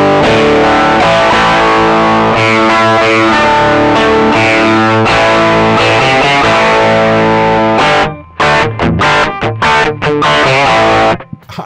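Loud, heavily overdriven electric guitar through an AC30-style overdrive pedal plays sustained chords, then shifts to tight, choppy palm-muted riffs with abrupt stops near the end.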